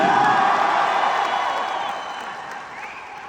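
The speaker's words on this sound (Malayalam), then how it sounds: "അപ്പൊ ലെറ്റ്സ് വെൽക്കം ഷറഫുദ്ദീൻ. ഒരു വലിയ കൈയടി." A crowd at a Qatar promotional event for the film Level Cross, welcoming actor Sharafudheen with sustained applause and cheering that starts loud and slowly fades, filling the room without talk.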